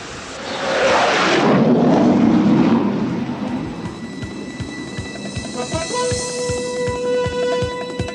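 An aircraft carrier catapult launches a 17-ton airplane with a loud, rushing roar that swells and then fades. A steady train of rhythmic pulses and sustained tones follows behind it.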